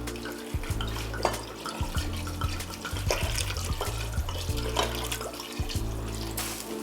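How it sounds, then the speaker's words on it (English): Red wine poured from a bottle into a pot of braised short ribs just coming to a simmer, a steady gurgling splash of liquid with small bubbling bursts that continues at an even level throughout. "you're gonna pour in all the wine"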